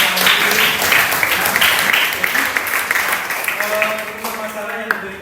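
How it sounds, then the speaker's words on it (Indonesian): A classroom audience breaks into sustained clapping, dense and loud, gradually thinning toward the end, with a voice speaking over it. "Oke, berikan aplaus."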